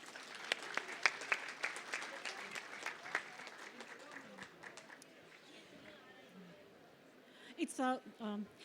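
Audience at a literary panel event applauding to welcome the speakers, a scattered round of clapping that swells and then dies away, followed by faint chatter and a few brief voices near the end.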